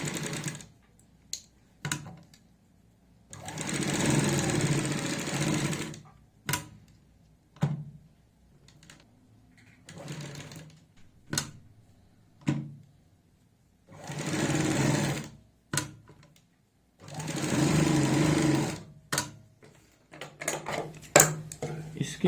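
A sewing machine stitches a high-neck collar on a kurti in bursts of loud, close rattling, several runs of a few seconds each, broken by gaps with cloth handling, clicks and someone speaking.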